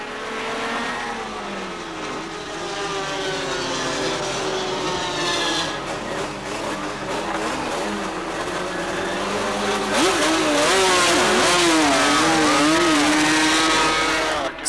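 Racing motorcycles at speed on the Daytona banked oval in 1976, a continuous loud engine roar with whining pitch sweeps as machines pass close, swelling louder toward the end.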